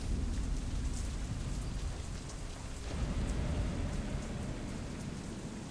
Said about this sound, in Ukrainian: Клятий грім!